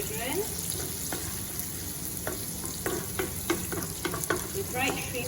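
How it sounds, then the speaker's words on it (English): Dried shrimp frying in a pan for Kam Heong sauce gives a steady, close sizzle, with sharp crackles and scrapes from stirring scattered throughout. "add the dried shrimps now. Let it cook till it's fragrant."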